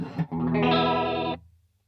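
A single sustained electric guitar chord shimmers with a warbling analog chorus pedal effect, loud and close, then cuts off abruptly.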